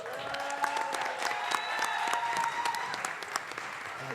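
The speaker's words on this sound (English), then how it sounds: "Can we give her a round of applause?" Attendees at a city budget town hall meeting applaud a councilwoman, a steady round of many hands clapping with a few sharp individual claps and faint cheering mixed in.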